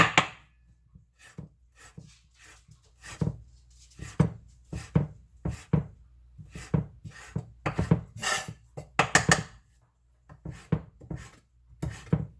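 Fresh curry leaf and rosemary herbs are chopped with a knife on a board in a series of close, sharp, irregular cuts with brief pauses between bursts, with no speech.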